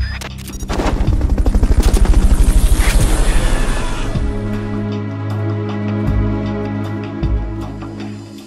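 In Metal Gear Solid: Peace Walker, a helicopter's rotor thumps loudly and rapidly, with bursts of gunfire and booms layered over the continuous engine roar.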